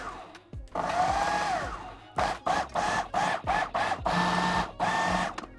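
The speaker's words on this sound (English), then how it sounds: "We're going to pulse the ingredients together." A food processor pulses garlic, salt and olive oil: one long whirring run followed by a rapid series of short, loud bursts, each motor spin-up cut off sharply, close and alone.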